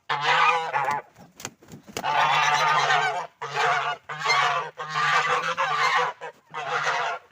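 Geese honk loudly nearby in a series of long, raucous bursts with brief gaps between them.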